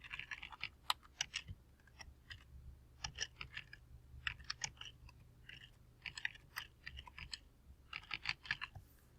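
Someone types a short text on a computer keyboard in quiet, close bursts of clicking keystrokes with brief pauses between words, with no voice heard.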